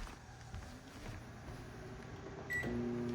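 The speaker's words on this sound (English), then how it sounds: "Microwave is on." Microwave oven running off a Mega 2 portable power station, a faint low hum with soft rattles, and a steady tone that starts near the end.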